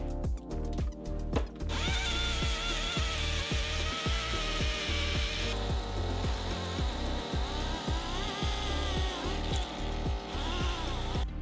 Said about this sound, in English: I did use my die grinder with an abrasive wheel followed by a wire brush